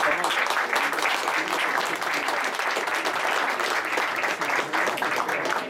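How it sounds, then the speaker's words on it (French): A full room applauds after a trading duel at a trading fair, sustained dense clapping from many people at a steady, loud level throughout. "On peut les applaudir."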